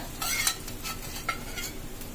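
Oil sizzles in a pan as it is poured into the holes of Telangana sarva pindi, a rice-flour flatbread, with a steady crackling hiss and a few brief scraping bursts, close and alone.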